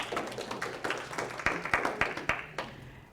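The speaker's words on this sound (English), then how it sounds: "So let's give her a round of applause." An audience gives a brief round of applause, sparse individual claps in an irregular rhythm, sounding fairly close and thin rather than a full roaring crowd.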